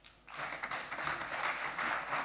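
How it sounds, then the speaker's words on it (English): Audience applause after a presenter is introduced at a conference talk, a dense wash of clapping that starts abruptly after a quiet moment and holds steady and fairly loud to the end. "Round of applause"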